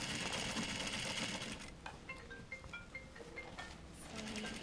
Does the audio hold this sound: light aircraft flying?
no